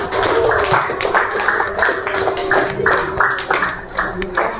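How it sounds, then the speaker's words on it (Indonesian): A classroom of children claps for a classmate, a loud, close burst of patterned clapping with repeated rhythmic groups of claps and some voices mixed in. "Oke, tepuk tangan buat Priscilia."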